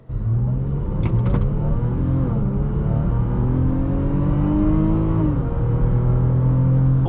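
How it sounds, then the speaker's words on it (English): Range Rover HSE Sport engine pulling under acceleration, a steady close low rumble with rising and falling pitch sweeps as revs climb and shift, heard from inside the car with no talk. "The engine's got a little bit of a grunt to it as well"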